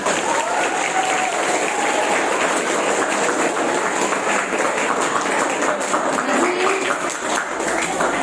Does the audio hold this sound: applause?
yes